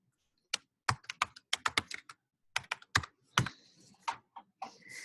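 Someone types on a computer keyboard in a lecture room, with sharp, close key clicks in quick irregular bursts, then a pause, then more keystrokes and a few faint rustles.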